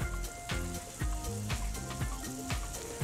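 Mushrooms frying in a pan of fat, giving a steady close sizzle with intermittent clinks and stirring knocks over about three seconds.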